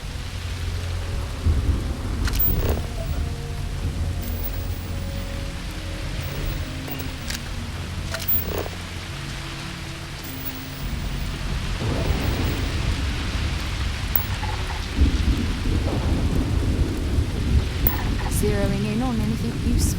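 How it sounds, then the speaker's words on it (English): Steady rain and rolling thunder from a storm in Starfield, a constant wash of rainfall with deep rumbles and occasional sharp cracks, continuous and fairly loud throughout, with faint background voices at times. "Thunderstorms, fun."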